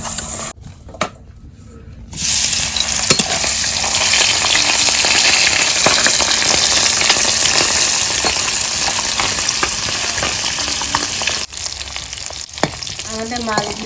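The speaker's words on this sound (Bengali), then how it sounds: "এই আমাদের ভাজা টাকি মাছ" Taki fish coated with salt and turmeric frying in hot oil in a village-style kitchen, a loud, steady crackling sizzle after a quieter start, with a brief dip near the end.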